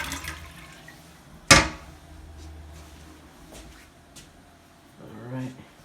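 A household toilet flushing during a bathroom vanity install, a sudden loud rush of water that settles into a fainter trickle and refill, with someone talking briefly at the end.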